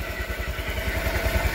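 A newly unboxed motorcycle runs during a first start, its engine thumping in a fast, steady rhythm, loud and close with no voices.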